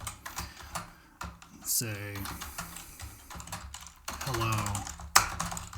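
Typing on a computer keyboard while entering JavaScript commands into Node.js, a run of quick, light key clicks heard close and fairly faint beneath a man's speech.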